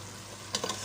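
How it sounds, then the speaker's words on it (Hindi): Paya masala frying in ghee in a pot, a soft crackling sizzle with a few brief stirring bursts near the end, close and fairly quiet. "अब मैं घी डाल के इसको अच्छी तरह भून लूँगी।"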